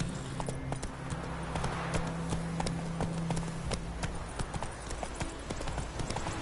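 A horse gallops steadily in a video game, a continuous rhythmic clip-clop of hooves, close and fairly loud, with a low background hum and no talking.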